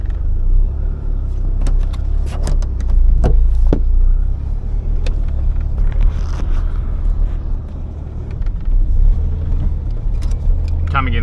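A car manoeuvring in reverse and wheeling round to the left, a steady low engine rumble throughout with occasional clicks and knocks, while a person talks over it.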